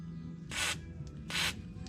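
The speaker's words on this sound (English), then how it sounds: "hit all these bolts with a little bit of WD-40" WD-40 sprayed onto rusty bolts of a rotted teardrop trailer, two short close hissing spray bursts separated by a brief pause over a quiet background hum.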